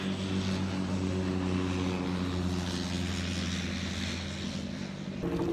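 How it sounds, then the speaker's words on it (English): A propeller airplane drones loudly and continuously nearby, a steady engine hum with strong low tones, holding constant throughout without voices. "Plane behind me."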